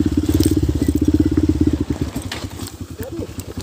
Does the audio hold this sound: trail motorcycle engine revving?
yes